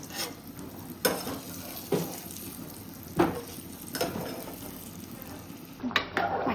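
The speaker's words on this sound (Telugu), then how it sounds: "మంచిగా ఉడుకుతుంది, ఉడకనియండి." Chicken curry bubbling and simmering in a pot, a steady low sizzle and bubbling with a few louder stirring scrapes and clinks against the pan at intervals.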